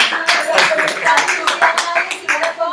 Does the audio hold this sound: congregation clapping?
yes